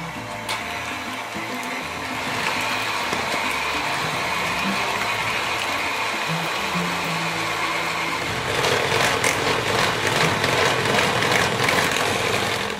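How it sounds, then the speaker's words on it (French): Eggs being whisked with 100 g of sugar for Tunisian yoyo dough, a steady mechanical whirring that continues throughout and grows louder and busier toward the end, with no talking. "On va commencer par blanchir nos œufs avec les 100 g de sucre."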